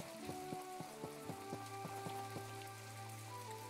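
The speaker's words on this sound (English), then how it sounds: "Today's a rainy day." Rain falls steadily in the farming video game My Time at Portia, a constant soft patter under a gentle musical melody of repeating plucked notes, with no talking.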